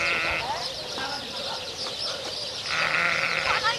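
A flock of sheep bleats repeatedly, some calls loud and close, others farther off, over outdoor ambience, with a person shouting intermittently between the calls.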